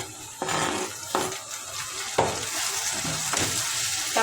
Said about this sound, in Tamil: தக்காளி சேர்த்து நல்லா வதக்கி விட்டுக்கலாம்